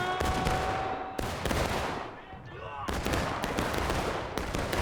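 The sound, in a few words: gunfire in the video game War of Rights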